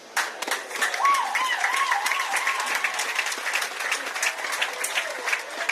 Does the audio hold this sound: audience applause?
yes